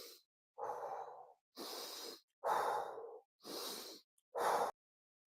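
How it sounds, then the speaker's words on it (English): Slow deep breathing during a guided exercise: five long breaths drawn in through the nose and pushed out through the mouth, each a close, airy whoosh separated by brief silences, with no speech. "So we take a deep breathing exercise here, deep in through your nose, out through your mouth"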